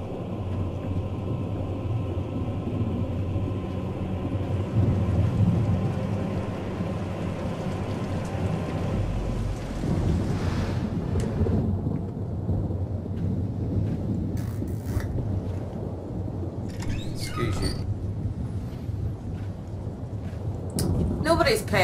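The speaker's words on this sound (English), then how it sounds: "That is some intense thunder outside." Heavy rain and rolling thunder outside a house during a PS4 Slender: The Arrival session, a steady dense low rumble and wash filling the whole span, with brief sharper bursts toward the end.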